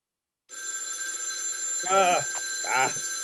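A telephone rings in a stage play, a steady electronic bell tone holding on after a brief silence, with two short bursts of voice over it.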